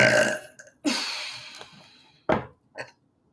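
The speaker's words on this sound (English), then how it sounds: "Spirit just makes me burp." Several burps, one loud and close right at the start followed by a few shorter belches with quiet gaps between them, from a host during a live psychic reading stream.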